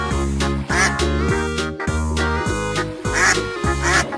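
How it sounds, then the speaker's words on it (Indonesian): A duck quacks in a steady run of loud, close, rhythmic calls, about eight evenly spaced quacks repeating one after another with no talking. "Ini adalah hewan bebek."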